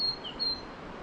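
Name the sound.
small bird singing on a tor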